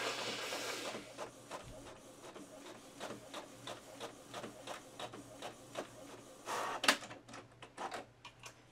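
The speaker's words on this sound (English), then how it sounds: "So the first one printed great." A home printer runs off planner inserts, its mechanism whirring and clicking in a steady series of short pulses, close and moderately loud, with a louder burst near the end as the page feeds out.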